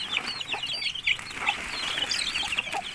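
Pure Asil chickens and their young chicks cluck and peep in quick, overlapping calls, close and moderately loud, with no talk over them.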